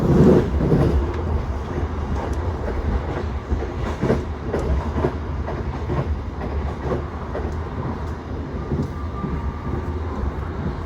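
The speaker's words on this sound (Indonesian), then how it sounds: "untuk kereta api Gumarang ini mengambil percabangan ke arah kiri menuju arah Cirebon" The Gumarang passenger train runs through a junction toward Cirebon, heard from aboard as a loud, continuous rumble with rhythmic wheel clatter and rattling carriages throughout.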